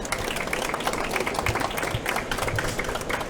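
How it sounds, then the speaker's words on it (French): An audience at a hospital-sector conference round table applauds, a dense steady clatter of many hands clapping that fills the short stretch. "je crois qu'on peut les applaudir"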